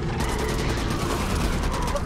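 Sustained rapid gunfire from a weapon in the video game Back 4 Blood, a dense continuous burst of shots with heavy recoil that fills the whole moment at steady loudness.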